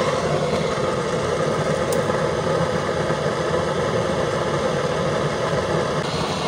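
A small 5-volt DC blower forces air into a motor-oil fire in a burner coupling, giving a steady, loud, unbroken whirring roar with no pauses.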